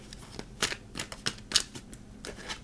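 Tarot cards drawn one at a time from a deck, a quick series of close, crisp card slaps and flicks with short gaps between them.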